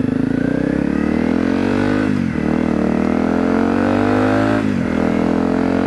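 A Honda CRF250L motorcycle with 14/45 sprockets cruising on a highway, its engine droning loud and close at steady speed, with two brief dips in revs like quick shifts or throttle lifts.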